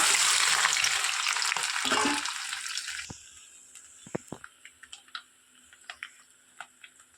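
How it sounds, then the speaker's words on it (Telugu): Boiled, cut eggs hit about two spoonfuls of hot oil with a loud, close sizzle for about three seconds, then fade into quieter scattered ticks and stirring clicks as the frying settles. "ఆయిల్ హీట్ అయిన తర్వాత మనం బాయిల్ చేసి కట్ చేసి పెట్టుకున్న ఎగ్స్ యాడ్ చేసుకోవాలి"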